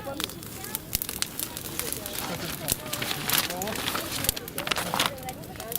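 A fire crackles and pops steadily, with sharp snaps scattered over a continuous rushing roar and voices talking in the background.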